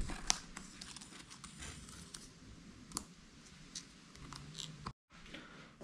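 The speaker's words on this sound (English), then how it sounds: "you want to glide your knife along the edge of it" Knife gliding along the edge of black rear window trim on a Mercedes SL55, producing faint scraping and small clicky cutting sounds close by, with a brief gap near the end.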